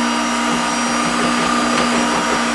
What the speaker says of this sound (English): You'll hear the mixer start to slow down a little bit.